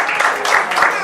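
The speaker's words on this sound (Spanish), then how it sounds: "Un aplauso al Señor." Applause for the Lord rising from a church congregation during a Spanish-language sermon, a short burst of dense clapping that swells and fades within about a second.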